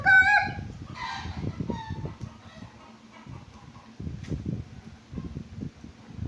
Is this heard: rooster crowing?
yes